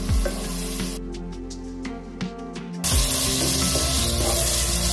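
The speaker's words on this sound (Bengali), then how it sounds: "টমেটোটা লো টু মিডিয়াম আঁচে কাঁচা গন্ধ না যাওয়া অবধি নেড়ে নিতে হবে" Chopped tomatoes fry in spice masala over low to medium heat, a close, bright sizzle that drops away briefly for about two seconds, with faint clinks of stirring, then surges back loud and steady.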